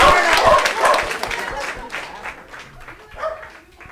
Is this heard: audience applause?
yes